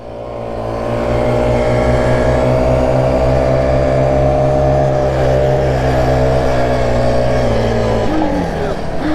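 A Supermoto mini bike engine revs hard and holds a loud, steady high-pitched drone for several seconds up close, then drops off as the throttle closes near the end.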